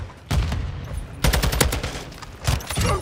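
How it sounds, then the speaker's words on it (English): A staple gun fires up close in Modern Warfare 2, with bursts of rapid, punchy shots in several clusters separated by brief pauses, loud and near. "The staple gun is crazy up close."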